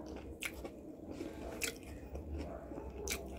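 Someone eating a tuna sandwich, with a few close bites and soft chewing, wet and quiet, no one talking.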